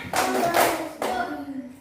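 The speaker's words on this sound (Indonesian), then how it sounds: "mari kita melakukan tepuk semangat belajar dan tepuk IPA." A classroom of students doing a rhythmic cheer clap in an Indonesian science lesson, a few sharp bursts of group clapping in quick succession, close and lively.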